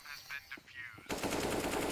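Automatic gunfire in CS:GO during a competitive esports match, a dense rapid burst of shots that erupts loud and sustained after a quieter opening second with soft game noise.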